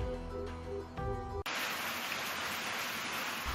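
Heavy monsoon-season rain from a passing storm, a dense, steady roaring hiss that takes over after a short stretch of tonal music and continues loudly to the end with no voices.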